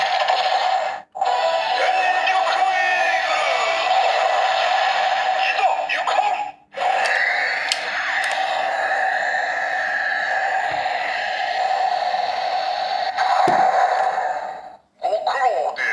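DX Zenryoku Zenkai Cannon toy in Zenryoku Eagle fighter-jet mode playing electronic sound effects: a sustained whooshing flight tone through a small speaker, broken by brief gaps, with short bright chirps and a landing sound, close and fairly loud.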